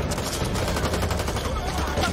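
Gunfire in the Back 4 Blood co-op zombie shooter: rapid, dense bursts of automatic shots overlapping in a continuous loud volley, with no pauses across the clip.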